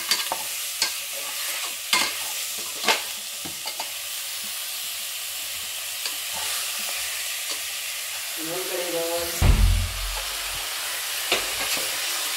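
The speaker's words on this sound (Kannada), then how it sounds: "ನೆಕ್ಸ್ಟ್ ಈಗ ಚಿಕನ್ ಆ್ಯಡ್ ಮಾಡ್ತಾ ಇದ್ದಾರೆ." Chicken for biryani stirred and fried in a pan, with a steady sizzle broken by repeated sharp scraping strokes and a louder burst of frying near the end, close up with no talk.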